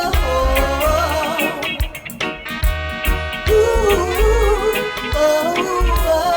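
A single plays as full, loud music with a punchy low beat, sustained melodic layers and rhythmic breaks throughout.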